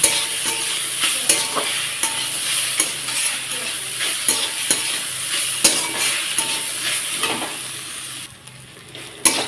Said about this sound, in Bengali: লবণ দিয়ে ভালোভাবে লাল করে কচুটাকে ভেজে নেব